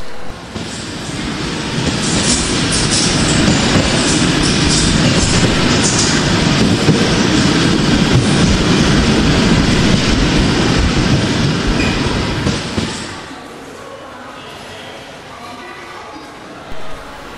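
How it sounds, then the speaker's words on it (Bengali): Train rumbling along rails as a cartoon sound effect, a loud, dense roar that builds over the first seconds, holds steady, then cuts to a quieter background near the end. "যাক বাবা, অবশেষে ট্রেনটি তো পেলাম।"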